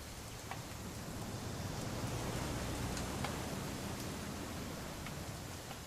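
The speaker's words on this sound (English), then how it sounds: "It's gonna rain the whole weekend" Rain falls steadily in What Remains of Edith Finch, an even, hissing wash of drops that stays constant and moderately quiet throughout, with no talking.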